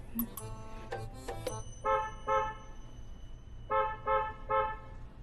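A car horn honks in a Hakka-language drama: a few short blasts, then two clusters of two and three toots, loud and close, with brief voices near the start.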